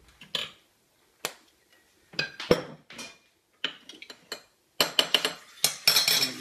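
A spoon works through Thai dressing for oysters in a bowl, giving close, intermittent clinks and scrapes in short bursts separated by quiet gaps, busier toward the end, with no talking.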